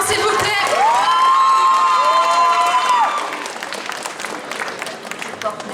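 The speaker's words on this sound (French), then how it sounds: "Applaudissements s'il vous plaît." An audience at a cosplay contest breaks into loud applause and cheering with whoops and shouts, with a long whistle above the crowd, then the noise fades to scattered clapping.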